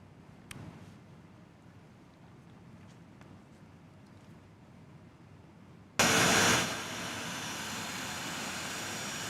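A Lion Air jet airplane's engine noise: a low, distant hum for about six seconds, then a sudden loud broadband roar that stays steady to the end.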